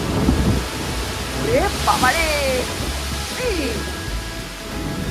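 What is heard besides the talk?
thunderstorm with rain at Puri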